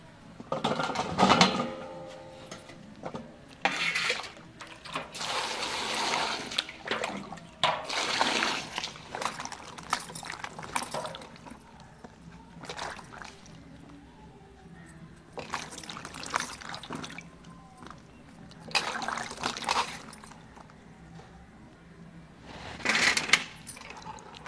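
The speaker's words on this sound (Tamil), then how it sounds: "காளானை போய் நல்லா அலசிடணும்" Mushrooms are rinsed in water in a village kitchen, giving intermittent splashing, sloshing and trickling bursts with quiet pauses between.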